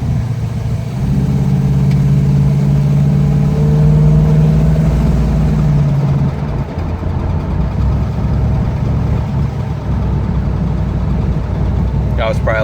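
A 1984 Buick Regal with a light shift kit and long tube headers accelerates at about half throttle, its engine note rising in pitch, then settling into a cruising drone heard from inside the cabin, with someone speaking over it.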